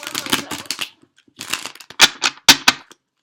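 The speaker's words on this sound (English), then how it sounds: "Alright, one more shuffle." Tarot cards are shuffled close by in quick riffling bursts, a pause, then several sharp crisp flurries of card snaps.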